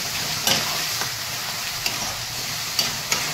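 Spiced masala for a bhetki fish-head jhal sizzles steadily in a pan after a splash of water, with a few sharp clinks of a spoon stirring it through; no one talks.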